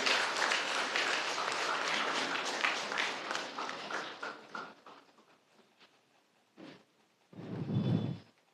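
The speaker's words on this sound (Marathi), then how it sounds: "आपण जोरदार टाळ्या वाजवून त्यांचं अभिनंदन करूया." An audience at a public service award ceremony claps for an honoree, the applause dense at first, then thinning and fading into scattered claps, followed by a brief louder thump or shuffle near the end.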